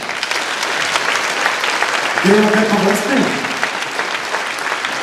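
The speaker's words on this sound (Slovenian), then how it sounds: "en aplavz, prosim" Applause from an audience at a town brass band's New Year concert, with steady clapping throughout and a voice speaking briefly over it in the middle.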